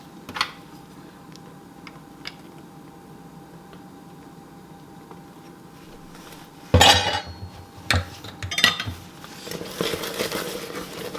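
Vanilla stirred into a hot buttermilk praline mixture in a pot: quiet at first with a few faint ticks, then a spoon clanks and scrapes against the pan in irregular, close metallic knocks.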